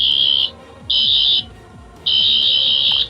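A Doctor Who 14th Doctor limited edition sonic screwdriver toy emits loud, steady high-pitched electronic tones in three separate bursts, the last held longest, with no talk over it.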